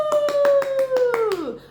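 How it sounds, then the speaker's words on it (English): Hands clap in a fast, even rhythm, about eight sharp claps in under two seconds. A sustained, falling "woo" voice runs over them, and the clapping stops as the voice fades. "Give yourself an amazing clap."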